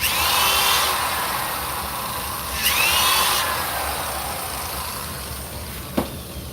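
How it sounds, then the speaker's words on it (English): Steel wool on a drill bit polishing a silver dollar coin ring, a steady close whirring grind that rises briefly midway and fades toward the end. "That's just steel wool I basically put on a drill bit"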